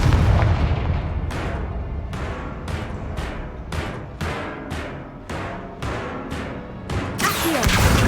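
Confringo blasting spells in Hogwarts Legacy go off as a rapid series of about a dozen sharp, booming blasts, spaced roughly half a second apart, ending with a bigger crashing burst.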